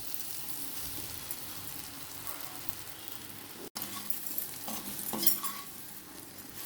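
Stuffed ivy gourds fry in a pan with gram flour, giving a steady low sizzle with soft stirring scrapes that swell near the end, without talk.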